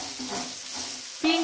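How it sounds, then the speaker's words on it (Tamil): Ginger and garlic sauté in hot oil for rava kichadi, giving a steady close sizzle with stirring scrapes and a louder flare of frying near the end. "இஞ்சி பூண்டை இது நல்லா வதக்கணும் இஞ்சி பூண்டு நல்லா வதங்கிடுச்சு"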